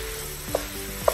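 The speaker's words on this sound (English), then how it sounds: "So you just want that to brown in with your peppers and onions." Ground pork browning with peppers and onions in a pan for chili, a steady close sizzle with a couple of soft scraping stirs, no voices.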